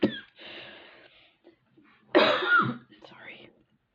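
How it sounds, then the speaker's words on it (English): A close, harsh cough bursts out, with a breathy throat sound before it and a short vocal noise after. "I apologize, I'm gonna cough"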